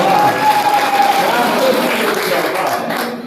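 An audience at a mushaira poetry recital in a library hall breaks into applause, a dense clatter of clapping mixed with crowd noise and a voice, gradually fading.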